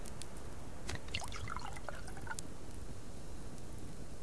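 Water is poured onto a plant bed in the survival game Subsistence, with a quiet trickle and a few splashing drips early on that fade into a faint, steady background hiss.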